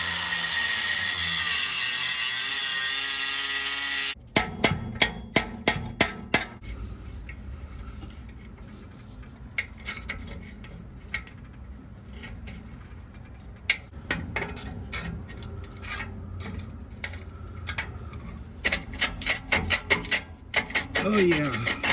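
Metal tool work on the muffler pipe of a C4 Corvette during a muffler delete, a long run of sharp irregular scraping and clanking strikes close by after a brief burst of louder noise at the start.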